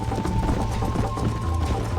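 A horse gallops in the Red Dead Redemption video game, its hooves drumming in a steady, rapid clip-clop rhythm over a loud, constant bed of game ambience and a faint high tone.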